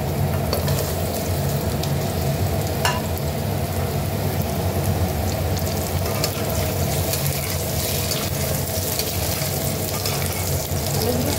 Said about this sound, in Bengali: আমার কড়াইটা গরম হয়ে গেছে, তেলও গরম হয়ে গেছে, আমি আলুগুলো ফ্রাই করে নেব